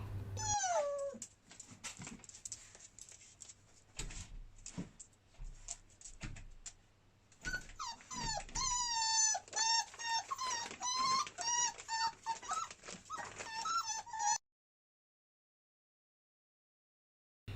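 A small dog whines and yelps in high, rising cries, close by, with short bursts then a longer run of squeaky whimpers before silence.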